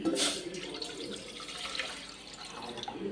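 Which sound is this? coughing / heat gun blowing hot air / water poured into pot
water poured into pot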